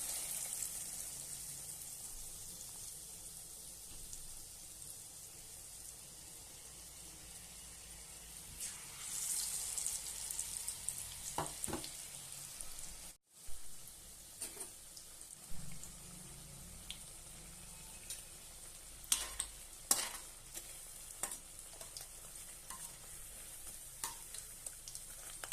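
Chilli bhaji frying in hot oil, giving a quiet, continuous sizzle with occasional faint clinks and brief crackles over 25 seconds.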